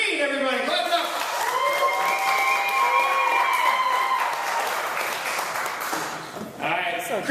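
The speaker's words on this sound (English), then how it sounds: "Clap it up!" Audience at a comedy competition show claps and cheers, a loud sustained wash of applause with whoops, while a tonal voice or music rides over it near the end.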